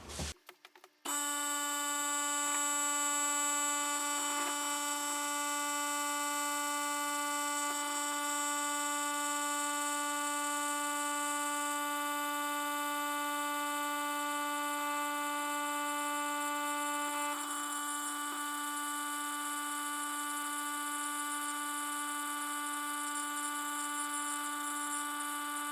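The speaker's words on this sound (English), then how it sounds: "and then I'm going to turn on the vacuum." A vacuum pump's steady mechanical hum with a strong tonal whine starts suddenly after a click and runs unchanged, loud and constant.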